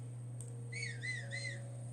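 A video game character whistles three short, rising-and-falling notes in even succession over a steady low hum and faint background tones.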